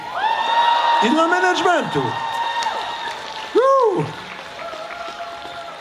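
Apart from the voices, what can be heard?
concert audience applause and cheering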